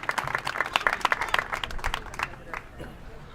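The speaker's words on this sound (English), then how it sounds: "Give these kids a big round of applause." Crowd at a county livestock show claps for young exhibitors, a brief burst of scattered clapping that quickly tapers off into quiet.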